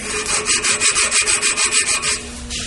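Screen cloth scrubbed back and forth over a steel pipe held in a vise gives a steady, rhythmic rasping of about a dozen quick strokes, close and fairly loud, with no talking.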